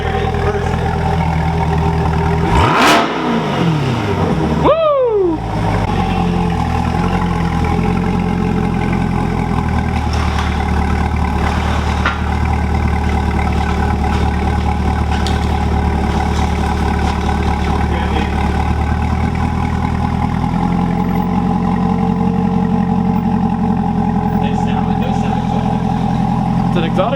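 A C8 Corvette with a Yonristic exhaust gives a sharp rev that sweeps up and falls back, then settles into a long, steady, rumbling idle while several people talk nearby.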